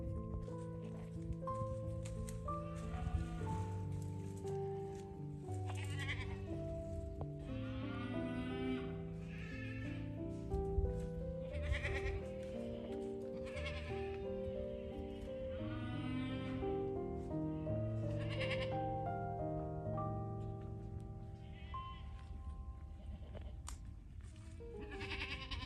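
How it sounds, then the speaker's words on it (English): Young goat doelings in a farm pen bleat repeatedly, several overlapping calls rising and falling over a steady background of music or noise, with no talking. "Those are the doelings that are over in our doeling pen."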